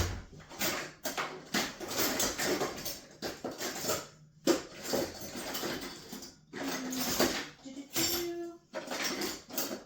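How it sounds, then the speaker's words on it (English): Rummaging through kitchen utensils for a spoon: repeated metallic clinks, rattles and scrapes of cutlery and pans in short bursts with brief pauses, close by and fairly clear. "I'm just going to get another spoon. A stronger spoon."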